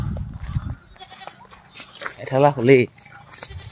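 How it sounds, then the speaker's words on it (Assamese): A goat gives a loud, quavering bleat near the end of the clip after a few brief words are spoken nearby. "আমাৰ ছাগলী কি হ'ল গম নাপাওঁ খুব চিঞৰিছে"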